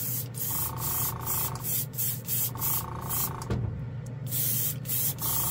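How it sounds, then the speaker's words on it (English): A Gaahleri number 68 advanced airbrush hisses in repeated short spray bursts over a constant compressor drone, with a small knock partway through. "This is the Gaahleri, the uh, number 68 advanced airbrush."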